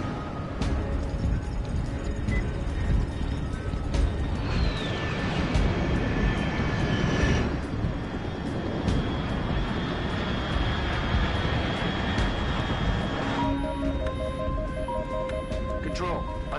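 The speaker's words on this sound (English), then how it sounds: "Unidentified aircraft detected." Aircraft flying overhead in Metal Gear Solid Delta: Snake Eater, a steady engine roar that holds across the clip and swells into a brief sweep partway through, with game music and tones laid over it.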